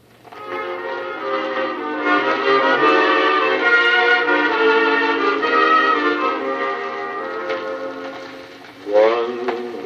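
A scratchy old vinyl record of singing with orchestral accompaniment, steady and mid-loud, ending with a brief swell.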